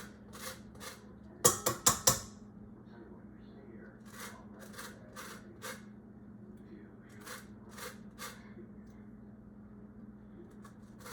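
An orange being zested against a grater: short scraping rasps, with a brief loud burst near the start and then softer intermittent strokes, close by in a quiet kitchen.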